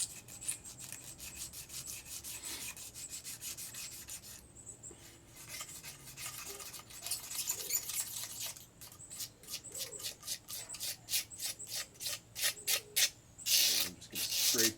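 A blade scrapes corrosion off the deck of an LS engine block in repeated rasping strokes, the scraping growing quicker and more rhythmic toward the end, close and fairly quiet with no talking.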